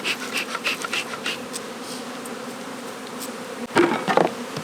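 Honey bees buzz steadily around an open hive during a spring inspection, a close, continuous drone with individual bees flaring louder as they pass, plus a brief clatter near the end.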